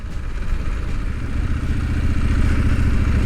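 Scrambler motorcycle ridden on soft sand with traction control on, its engine a steady, loud, rumbling drone with rattly clatter close by.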